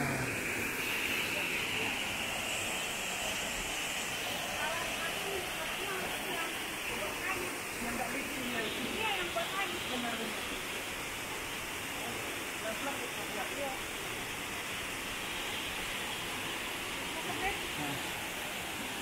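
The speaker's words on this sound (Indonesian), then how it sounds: "Air terjun kembar." Twin waterfalls at Taman Simalem Resort pour with a constant, even roar of rushing water that holds steady throughout with no pauses.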